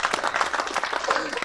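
A brief burst of audience clapping at a one-man comedy show, close and choppy, with a voice talking over the applause.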